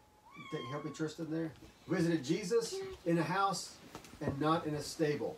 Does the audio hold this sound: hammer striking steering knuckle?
no